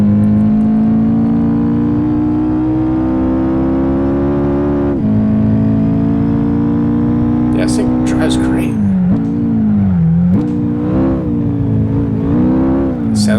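The engine of a Honda Civic race car in Gran Turismo 5 drones loudly at high revs with a strong, steady harmonic tone. Its pitch dips and climbs through gear changes while someone speaks over it.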